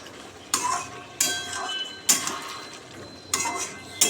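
A spoon stirs a potato and vegetable-stalk curry in a cooking pot, giving five sharp metallic scrapes and clanks at irregular intervals over a faint background hum.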